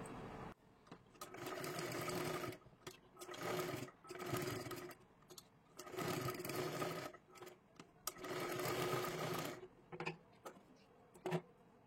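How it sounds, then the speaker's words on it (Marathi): A sewing machine runs a double line of stitching along the edge of a sleeve in bursts of fast, rattling needle noise, stopping and starting several times, close and steady, with no voices. "आता इथे सुद्धा एक कडेला एक डबल शिलाई मारून घ्या"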